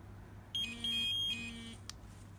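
The receiver of a dog training collar beeps during remote pairing, giving a few quick close electronic tones in a short pattern, followed by a faint click, over quiet background hum.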